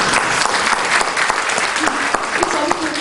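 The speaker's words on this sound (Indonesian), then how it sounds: "Tepuk tangan dong." Loud, dense applause from a church congregation fills the whole stretch, a continuous roar of many hands with bright claps standing out, while a voice speaks faintly under it.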